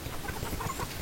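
Chickens clucking on a Tanzanian poultry farm, a soft, busy chorus of short clucks in the background, fairly faint and continuous.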